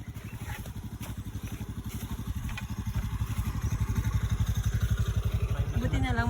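A motorcycle labours along a rough, difficult road with a close, pulsing low engine chug that grows steadily louder, while a voice speaks over it.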